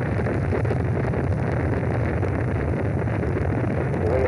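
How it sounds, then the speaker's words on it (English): Apollo 8 Saturn V rocket engines igniting at liftoff, a loud, continuous broadband roar with a rumbling low end, steady and unbroken throughout, sounding like distant heavy thunder or wind. "We have ignition sequence start. The engines are on."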